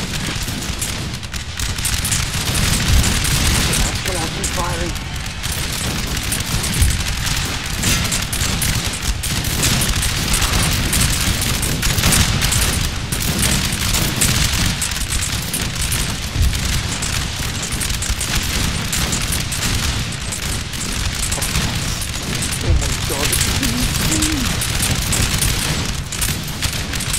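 Musket volleys and cannon fire in Napoleon Total War: a continuous, loud, dense crackle of massed gunfire with occasional deeper booms, sustained throughout like heavy rain.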